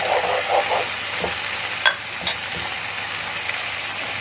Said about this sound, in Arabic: ننزل بقى بالفلفل الرومي بتاعنا، خليه بس يدبل معانا شويه، هيدبل معانا شويه. ننزل بالبصل عشان يدبل برضه